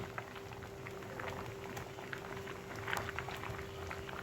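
Mung dal with brinjal simmering in a pot after long boiling, a quiet steady bubbling with small pops throughout, nearby and faint.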